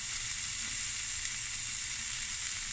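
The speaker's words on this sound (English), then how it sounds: "And now we're going to fry this" Chopped onions fry in olive oil with cardamom pods and cinnamon stick for a pilchard and butternut curry, a close, steady, even hiss of sizzling that holds at a constant level throughout, with no talking.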